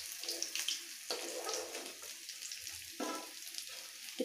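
Rohu fish pieces frying in oil for a village-style curry make a bright, hissing sizzle with bursts of crackle that swell and ease in waves, fairly close and moderately loud.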